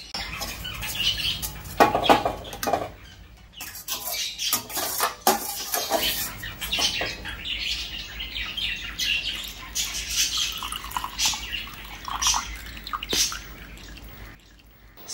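Drumstick leaf soup cooked with tomato and onion is poured through a strainer, making splashing, dripping liquid with clinks of metal utensils and a vessel, close by, with no talking.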